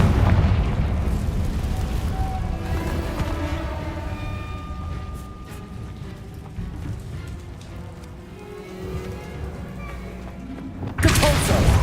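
A Confringo fire spell explodes in Hogwarts Legacy, a loud booming burst at the end following a long rumbling, fading stretch of magical ambience with a brief spoken word earlier.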